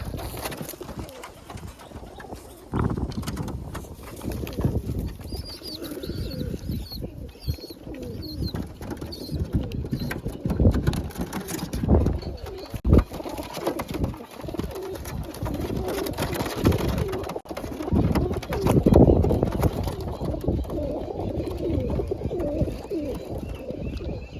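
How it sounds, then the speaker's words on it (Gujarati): A flock of trained pigeons coos steadily up close, mixed with scattered fluttering, scratching and clattering noises throughout. "ટ્રેનિંગ વાળું કબૂતર છે આપણે"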